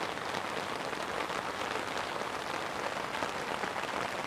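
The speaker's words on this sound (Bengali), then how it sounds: "বৃষ্টিতে প্রকৃতি" Rain falling outdoors in a steady, even downpour, a dense uniform patter that stays constant and fairly soft throughout with no voices.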